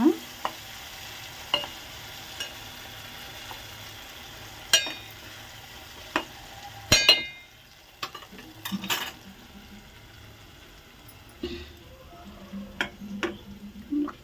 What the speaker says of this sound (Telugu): ఇలా జీడిపప్పు గ్రేవీ టమాటా గ్రేవీలు వేసుకుని ఇలా బాగా మగ్గేదాకా తిప్పేసుకోవాలి